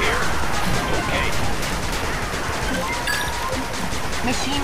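Machine gun turret in the real-time strategy game 8-Bit Armies firing continuously amid a dense, busy battle mix, with rapid rattling bursts and crashes throughout and short unit voice lines now and then.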